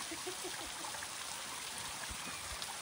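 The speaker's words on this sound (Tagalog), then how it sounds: "Kaya may nakita po kaming waterfall" A small waterfall on a stream gives a continuous, even rush of flowing water, soft and somewhat distant, with no voices.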